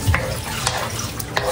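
Seasoned lumpia filling is stirred in a frying pan, with a constant close sizzle and several soft scraping strokes and light spoon taps, fairly loud, without speech.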